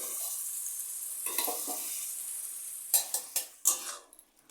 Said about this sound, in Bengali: এবারে নেড়ে নেড়ে ভাজতে হবে